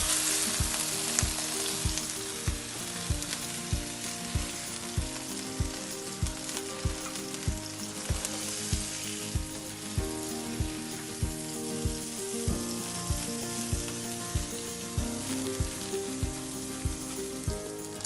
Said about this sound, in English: You just want to get a good searing on the edges so you put them in the crock pot.